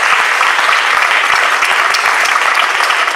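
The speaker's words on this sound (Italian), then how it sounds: "Un applauso al sindaco Mario Pupillo" A theatre audience at a choir concert at Teatro Fenaroli in Lanciano breaks into loud, sustained applause for mayor Mario Pupillo, a dense unbroken clapping that runs the whole length with no voices on top.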